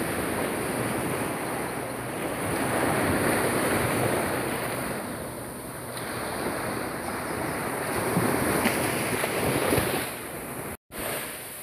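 Sea waves wash onto the eroding shore of Playa Salguero in Santa Marta, giving a steady, loud surf roar with wind that swells and eases in broad surges, and a brief dropout near the end.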